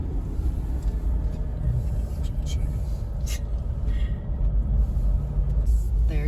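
A car climbing a cloudy mountain road, its steady engine and road rumble filling the cabin as a low continuous drone, with faint clicks and rattles on top and a voice speaking briefly over it.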